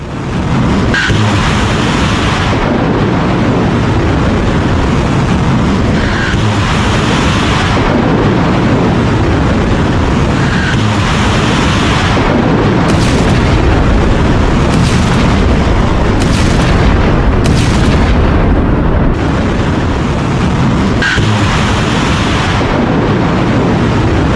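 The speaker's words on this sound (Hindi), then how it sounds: "गरजती हुई मिसाइलें ईरान में घुसकर अमेरिका ने इस ऑपरेशन को अंजाम दिया है।" Roaring missile strikes and explosions in a US military operation inside Iran, a continuous loud rumbling barrage with repeated heavy booms and sharp bursts, dense and unbroken throughout with no voices.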